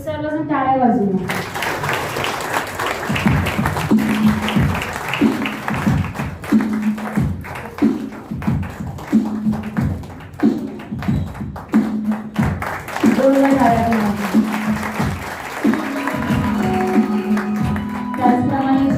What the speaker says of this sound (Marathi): आपण सर्वजण टाळ्या वाजवूया.